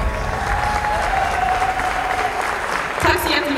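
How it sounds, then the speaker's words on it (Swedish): A large crowd at the Mr and Miss Universe Sweden 2017 final claps steadily in loud, sustained applause, with cheering voices mixed into the dense wash of hand claps. "Ge dem en stor applåd."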